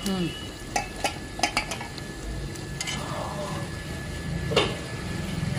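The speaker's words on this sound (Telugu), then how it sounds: "ఉప్పు, కారం, పసుపు, ధనియాల పొడి, గరం మసాలా అన్ని వేసాక టమాటా వేసిన తర్వాత ఒక నిమిషాలు మగ్గాలించాలి" Tomato cooking in a pan with salt, chili powder, turmeric, coriander powder and garam masala, a soft steady sizzle broken by several clinks and scrapes of a spoon stirring against the pan.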